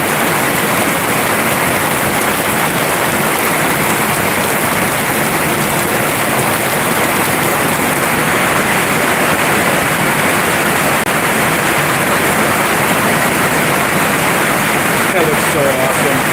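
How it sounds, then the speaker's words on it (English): Heavy rain pouring onto a metal roof during a thunderstorm, a loud, steady, dense hiss that fills the whole stretch without letting up. "That's not just how it sounds on the metal roof. It is fucking pouring out now."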